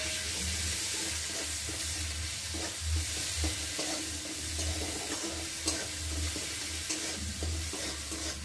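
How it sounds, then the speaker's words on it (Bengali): Turmeric, ginger paste and garlic paste frying in a pan for chicken rolls, a low steady sizzle with repeated spoon stirring and scraping, fairly quiet and close, with a faint hum underneath. "ভালো করে লাল লাল করে ভেজে নেব"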